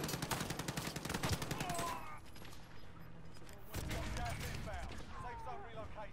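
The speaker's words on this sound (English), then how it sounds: "Sniper on the roof, fucking sniping" Rapid bursts of gunfire in the Warzone video game, a quick run of repeated shots followed by more scattered firing, heard under overlapping voices of players talking.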